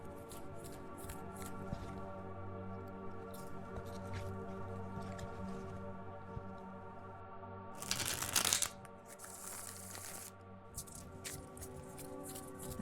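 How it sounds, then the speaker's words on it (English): Tarot cards shuffled in two loud, rasping bursts near the middle, with softer riffling ticks before and after over a steady tonal hum. "shuffling sound is actually very loud"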